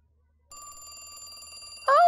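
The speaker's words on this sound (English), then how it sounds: "The phone." A telephone in The Fifth Apartment video game rings with a steady electronic bell tone after a short silence, then a voice cuts in loudly at the end.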